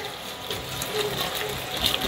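Steady pouring of hot water while cooking sinantolan, a continuous gushing splash with no talking over it.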